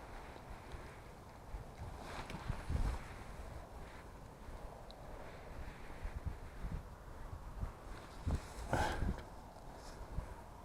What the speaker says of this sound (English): This bloody wind is serious.